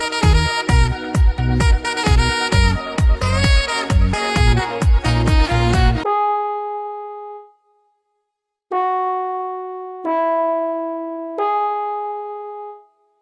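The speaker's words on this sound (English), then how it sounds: "Now for the next sound we have a plug sound, sort of like a horn from Purity underneath the brass folder" A plug-style horn patch from Purity's brass folder plays a fast, busy melody for several seconds, then a few sustained held notes follow after a short silence, loud and close with no talking.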